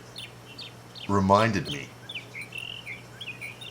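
Bird chirps sound faintly in the background, with small repeated tweets scattered through the clip, while someone speaks briefly over them.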